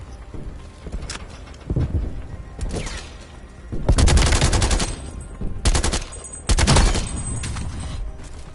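Rapid bursts of handgun and automatic gunfire in a Call of Duty multiplayer match on PS5, loud, bassy and dense, arriving in several separate volleys.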